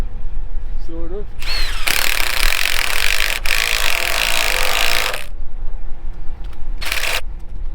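Metal sockets spill from an upside-down socket set in a tractor shed during seeding work in Western Australia, a loud clattering rush lasting several seconds with a shorter rattle after, and a voice briefly heard beforehand.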